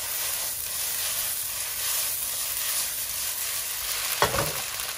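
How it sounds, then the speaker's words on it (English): Singapore carrot cake stir-fried with eggs, radish and white pepper in a hot pan gives a steady close sizzle and hiss, with one sharp spatula scrape near the end. "Mix them up first."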